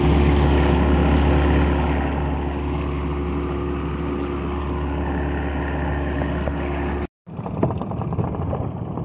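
A boat on an old 40 outboard motor tows another boat against wind and current, giving a steady near engine drone that cuts out briefly near the end, then resumes rougher.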